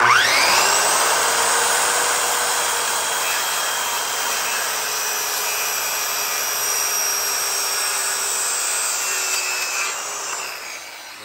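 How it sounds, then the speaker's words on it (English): A miter saw makes a miter cut through lumber, with one steady, loud, whining cut lasting about ten seconds that tails off as the blade finishes, and no one talks. "There go my miter cut."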